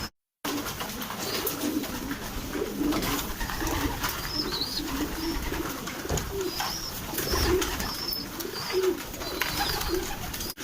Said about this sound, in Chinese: 刚才呢，我已经加了点粮食，你看我身后这些鸽子。